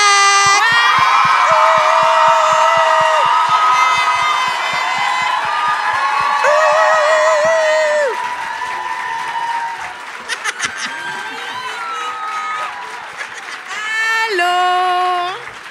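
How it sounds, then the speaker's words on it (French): A live show audience in Montreal cheering and applauding as guests come on, loud crowd roar with shouts and whoops, clapping underneath, and bright tonal calls rising and falling over it. "Fait que commencez tout de suite à applaudir."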